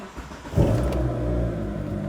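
A Mitsubishi Eclipse GSX fitted with a green turbo and Hellcat parts starts and settles into a steady, loud idle with a deep rumble, running smoothly in cold winter air.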